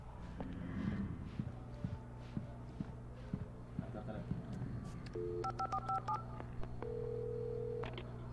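Rhythmic footsteps in the video game Alan Wake give way to a series of beeping dial tones pressed one after another on a gas station phone, ending in a longer steady tone.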